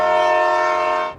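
A train horn sounds one loud, steady, chord-like blast that holds for about a second before cutting off, with no voices over it.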